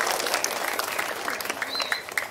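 An audience at an evening Nuzulul Qur'an religious lecture in Java claps for young Islamic boarding school students learning to preach, a brief uneven burst of clapping with scattered louder claps and faint background noise.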